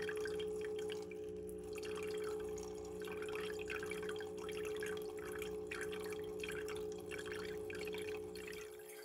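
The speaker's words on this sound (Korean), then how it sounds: "물방울이 아래로 떨어져야 하는데 위로 올라갑니다." Water droplets falling inside an anti-gravity humidifier with an open central design, heard as quiet, repeated soft drips over a steady low electrical hum, with no talking.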